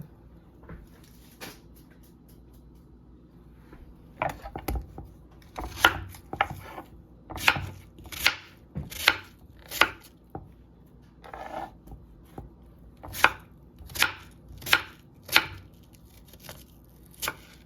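Knife chopping peeled vegetables into wedges on a cutting board in a home kitchen, a series of crisp, fairly close chops with irregular pauses, alone without talk.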